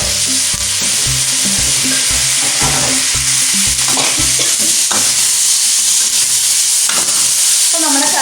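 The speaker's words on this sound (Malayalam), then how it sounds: "ഇതിലേക്ക് ഞാൻ തക്കാളി ഇടുകയാണ്. തക്കാളി ക്യാപ്സിക്കം ഒരുമിച്ചിടാം." Tomato and capsicum stir-frying in a pan for a cauliflower stir fry: steady loud sizzle with repeated scraping and stirring strokes, no talking.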